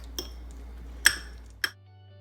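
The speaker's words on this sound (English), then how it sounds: "Just mix it all up with the yellow part, the yolk." Eggs with salt and pepper are mixed in a bowl, heard as three sharp utensil clinks against the dish over quiet background hum.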